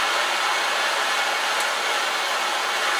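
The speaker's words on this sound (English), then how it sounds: "I'm just using a standard butane propane mix with a standard, it's like a plumber's torch." A plumber's torch burning a butane-propane mix roars with a steady, loud hiss while heating an aluminium inlet manifold from a Classic Mini SPi, unbroken and close.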